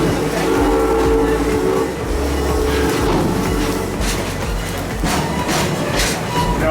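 Safari tour train rolling along in Florida, a steady loud rumble and rattle of wheels and cars with a low drone, brief hiss bursts toward the end.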